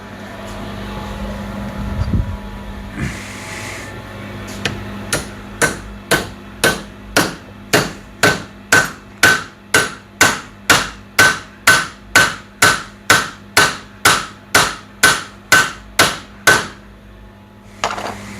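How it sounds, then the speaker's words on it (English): A hammer pounds a brake drum extractor on a seized Honda TRX350D ATV with about two dozen loud metallic blows. They come in a steady, even rhythm after a few seconds of quieter shuffling. "pounding this extractor on there"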